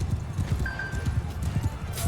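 Cavalry horses gallop in the battle game Mount & Blade II: Bannerlord with a dense, steady clatter of hoofbeats and a brief whinny, all kept at a fairly even loudness.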